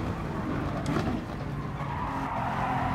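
A Honda NSX Gr3 race car in Gran Turismo Sport slides through a corner, its tires squealing over a steady engine drone that stays loud and continuous.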